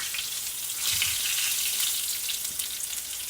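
Sliced green tomatoes fry in a pan on a home stove, a steady close sizzle and crackle of hot oil that carries on without pause.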